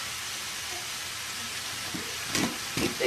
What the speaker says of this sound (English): I'm going to throw the meat in and let that cook up just as good